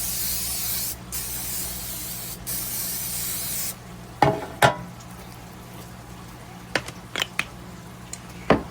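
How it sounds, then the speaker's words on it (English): Cooking spray hisses into a small loaf pan in three bursts, a long steady spray followed by two shorter ones, then a few light clicks and taps of the can and pan nearby. "I'm going to spray it with some cooking spray."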